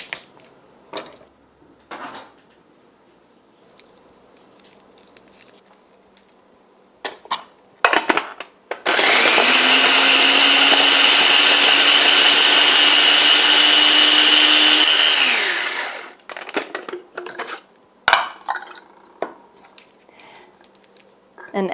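A small food processor whirs loudly for about seven seconds, blending basil, oregano and a clove of garlic, its motor pitch steady before winding down; quieter handling noises and clicks come before and after.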